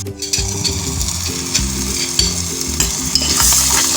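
Masala gravy sizzles and bubbles in a pan for a meat dish of brain masala, with a steady frying crackle and occasional stirring scrapes, close and without talk.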